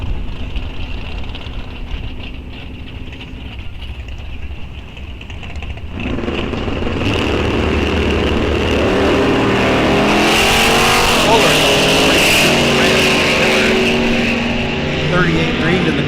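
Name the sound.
Corvette drag racing at bracket race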